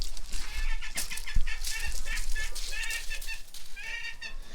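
Young ducklings in an indoor brooder on a farm chirp and peep continuously at close range, with a dense overlapping chorus of high calls and some scuffling.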